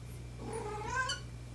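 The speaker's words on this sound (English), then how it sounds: "Hello, cat." A cat meows with a drawn-out, wavering caterwaul that rises and then falls, fairly close but faint, over a steady low electrical hum indoors.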